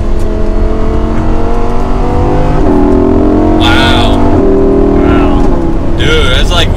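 A Lamborghini Huracan EVO in Corsa mode roars loud and close as its engine climbs through the gears, pitch rising and stepping up with each shift while someone talks over it.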